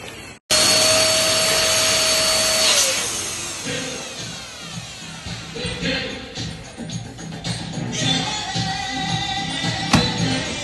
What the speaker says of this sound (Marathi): आता आपण फुगे फुगवूया. आणि मी आता फुग्याची मशीन दाखवते.